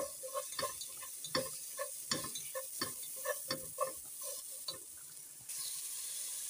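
Garlic frying in a little oil, with a quiet sizzle under a run of rhythmic spatula taps and scrapes against the pan, ending in steady, soft frying.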